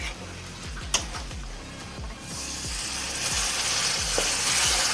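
Ginger garlic paste sizzles and fries in hot oil in a pan, a steady crackling hiss that grows denser and louder partway through, with occasional stirring clinks and no voices.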